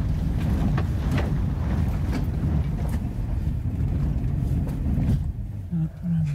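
A Land Rover Discovery 3 engine works steadily under load as the vehicle climbs an off-road hill, a continuous low rumble with wind buffeting on the microphone, easing briefly near the end.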